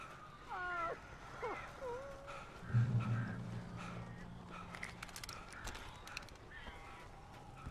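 Crows caw in the video game Alan Wake: a few rough calls near the start, fairly soft, followed by a low hum and faint scattered game ambience.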